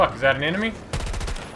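Rapid automatic gunfire in Battlefield 2042 multiplayer combat, a burst of close, loud shots cutting in after someone speaks and continuing steadily to the end.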